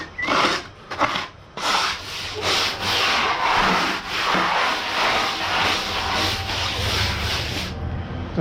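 A float rubbing up drying plaster on a damp repaired wall, a continuous gritty scraping in long uneven strokes close to the mic, with short pauses between passes.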